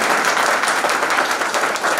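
A steady wash of dense audience applause and clapping, loud and continuous for a couple of seconds, with no voice on top.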